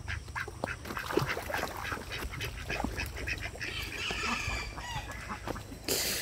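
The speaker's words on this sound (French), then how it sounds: "Il y a des oies." Geese on a farm in Bali honking and calling amid other poultry noise, a busy, fairly close chorus of overlapping calls that continues throughout.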